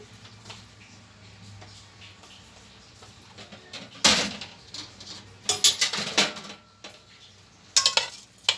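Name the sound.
putting rice in and straining it for stuffed vegetables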